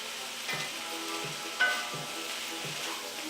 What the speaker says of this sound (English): Okay, I'm going to add the Brussels sprouts now.